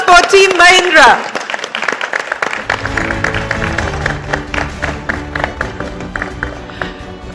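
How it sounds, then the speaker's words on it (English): Audience applause at a business leader awards ceremony, a dense sustained clapping under a musical sting and hubbub after a voice announces the winning team. "Ladies and gentlemen, a big round of applause for Team Mahindra."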